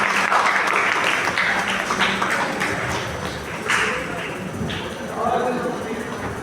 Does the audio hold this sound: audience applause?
yes